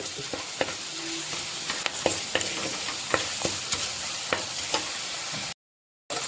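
Kashmiri chili powder sautéing in hot oil for a Pathanamthitta-style fish curry, a steady soft sizzle broken by repeated scraping stirs of a spoon in the pan, close and alone, cut off by a short silence near the end.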